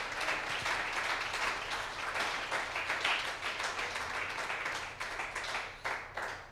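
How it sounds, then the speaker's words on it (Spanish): A church congregation claps during a Spanish-language sermon. The applause is fairly soft and sustained, a continuous wash of many hands that holds for several seconds with some uneven patches near the end. "Dele un aplauso al Señor,"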